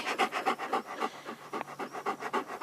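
A male Belgian Shepherd Groenendael pants rapidly and rhythmically at close range, quick breathy huffs in an even steady beat with no other sounds.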